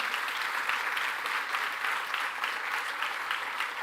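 Steady applause from a large church congregation fills the space, even and sustained throughout.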